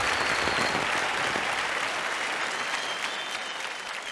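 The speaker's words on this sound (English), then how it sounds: "Huge round of applause to Anshul." A crowd at a business competition finale cheers the second runner-up with dense, loud, continuous applause that holds strong and fades slightly near the end, with no talk over it.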